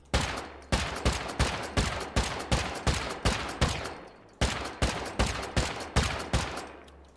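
Rapid gunfire in the survival game Rust aimed at a fence, two bursts of evenly spaced sharp shots, about a dozen in the first run and seven or so in the second, loud and close with short decays.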